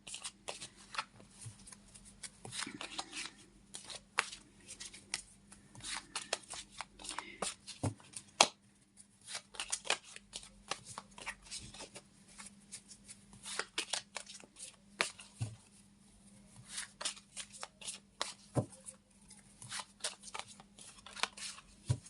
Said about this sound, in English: Think about it as I shuffle the cards to receive an answer.